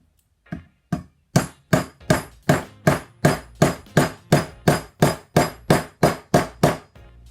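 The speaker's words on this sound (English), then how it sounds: "Now we can start hammering these down into our wood." Bolts are hammered into wood with steady blows, about seventeen sharp, evenly spaced bangs in a regular rhythm, loud and close.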